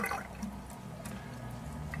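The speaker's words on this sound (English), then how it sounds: "turn on the water" Water runs steadily from a kitchen sink faucet fitted for an EOS Genesis water ionizer, a continuous moderate hiss and splash with no talk over it.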